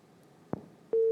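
A click comes after a phone-in call to a radio program disconnects. A steady, loud telephone busy tone then starts and continues to the end.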